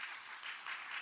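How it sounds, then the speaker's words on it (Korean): A church congregation at a Friday evening worship service gives a brief, soft round of applause, heard as faint, continuous clapping from the room. "박수 한번 할까요?"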